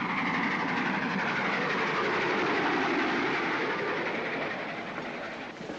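Continuous rumbling and rattling of a train rolling along the rails, steady and close, fading slightly toward the end.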